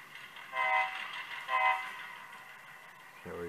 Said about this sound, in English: we've got the locomotive that's going to couple up.